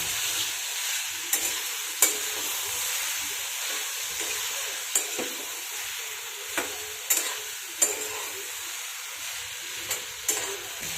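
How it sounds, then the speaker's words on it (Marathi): Pasta being stirred into a spicy gravy in a pan, a gentle simmering sizzle punctuated by about ten sharp spoon scrapes and clinks against the pan, close and clear with no voices. "याच्यामध्ये आपण पास्ता टाकून घेऊयात. सर्व मिक्स करून घेऊ."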